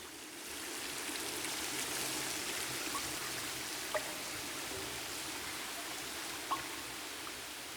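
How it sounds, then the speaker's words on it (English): Steady broadband rush of falling water from a garden waterfall, heard from beneath it inside a cave, continuous and enveloping with a couple of faint drips standing out. "From beneath the waterfall, the sound of running water echoes in the cave."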